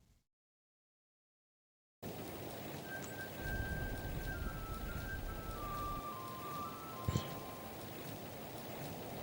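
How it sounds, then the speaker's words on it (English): Steady rain falls in a Doki Doki Literature Club mod, a dense hiss of drops that starts abruptly after a brief silence. It continues evenly, with one short louder patter near the end. "It's raining today, and the wind gives me chills as I leave my house."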